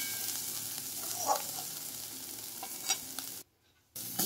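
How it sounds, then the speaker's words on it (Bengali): Spices and ridge gourd pieces fry and sizzle in a pan over low heat, a steady close hiss with a few stirring scrapes and clicks, then a brief near-silent gap before the sizzling resumes. "ঝিঙে টুকরোগুলো তুলে একটু মশলার সঙ্গে কষিয়ে নেব।"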